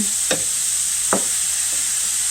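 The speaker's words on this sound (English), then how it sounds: "And we're just moving it around in the pan" Zucchini frying in oil in a pan, a steady hiss of sizzling with two distinct scraping strokes as it is pushed around, close and fairly loud.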